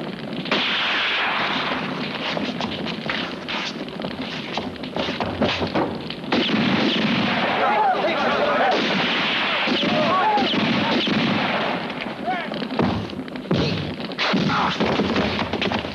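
Gunfire rings out in a western cowboy action film: loud, dense volleys of shots and heavy thuds that keep going almost without a break, mixed with other action noise.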